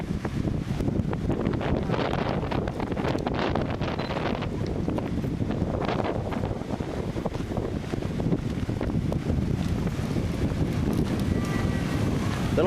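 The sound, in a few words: wind blowing on a black sand beach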